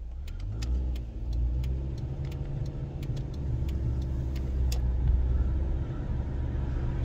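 A Jeep Patriot engine hums and rumbles steadily, its pitch rising as it speeds up to about 40 before hard braking, with sharp clicks and ticks scattered over the drone.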